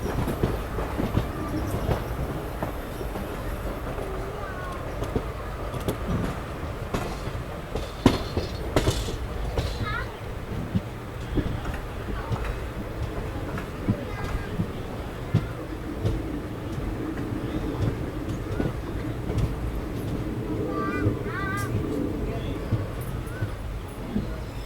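The Tambaram–Bodi special express rolls into Madurai Junction with rhythmic clickety-clack of wheels over rail joints, occasional squeals and rattling carriages, while people talk nearby.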